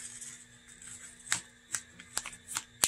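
Paper being creased and folded into a paper boat, with a string of soft, close crinkles and sharper snapping folds in quick succession against quiet background.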